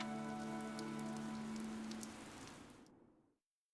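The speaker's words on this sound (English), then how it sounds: "This rain threatens a coming storm." Steady rain falls across a surface in the video game Fire Emblem Three Houses, a continuous hiss with a low sustained musical tone underneath, fading out near the end.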